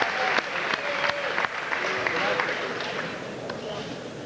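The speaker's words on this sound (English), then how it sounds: "Great round of applause from the crowd." Crowd applause at a boxing fight night, a broad sustained wash of clapping with scattered sharper claps, heard live in the arena with announcer-style speech over it.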